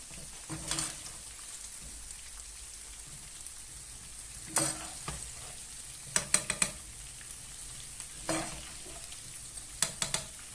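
Chicken fajita fries softly in a pan, with a faint steady sizzle broken by several sharp clinks and scrapes as a utensil stirs it against the pan.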